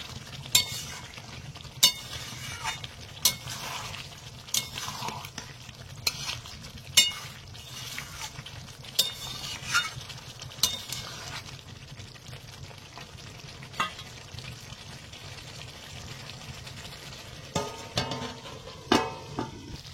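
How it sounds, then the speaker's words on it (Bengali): A utensil scrapes and clinks repeatedly against a cooking pan as chicken and fried potatoes are stirred, sharp close knocks recurring every second or two over a soft background sizzle, with no speech. "এবার একটু নাড়াচাড়া দিয়ে আবার ঢেকে দেবো, যাতে সব কিছু ভালোভাবে সিদ্ধ হয়।"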